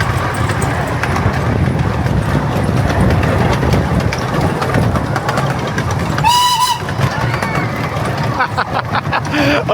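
A miniature railway train rumbles and clatters steadily along the tracks at a fun fair in Rhyl, and a short, sharp whistle blasts midway through the clip.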